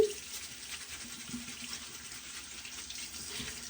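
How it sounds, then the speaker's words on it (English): Running tap water streams steadily into a sink while hands are washed beneath it, a close, even hiss with no voices. "I am right now just going ahead and washing my hands"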